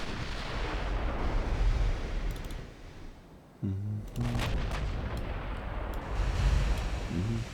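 Naval gunfire in the Ultimate Admiral Dreadnoughts video game as a fleet targets a battle cruiser: deep rolling booms of heavy guns under a constant low rumble, with a sharper burst of salvos midway.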